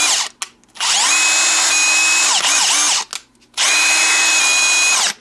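Teccpo 1/2-inch brushless cordless drill running at high speed, a loud steady whine in two long bursts separated by a brief pause, with no talking.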